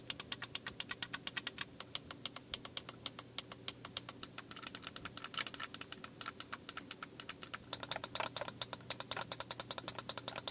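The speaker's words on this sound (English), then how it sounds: "Most of these clicky buttons are using Kailh green switches. They produce a loud noise and are very, very fun to use." Kailh green clicky switch buttons on an IFYOO GTP01 Pro controller snap in a rapid, steady stream of sharp, loud clicks, pressed close up with no talking.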